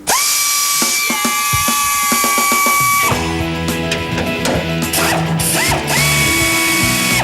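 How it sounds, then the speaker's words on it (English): Air-powered impact wrench undoing bolts on a car under restoration, giving short ratcheting bursts and then sustained loud whirring rattles that fill the whole clip. "This is the beast for using sockets, an air-powered spanner."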